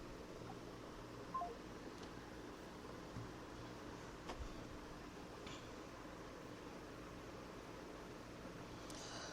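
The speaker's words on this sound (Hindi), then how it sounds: "कुछ नहीं, मोहित का फ़ोन था" Phone tones from an incoming call in a quiet room, brief faint beeps and chirps scattered over a steady low hum of fan or air conditioning, with no talking.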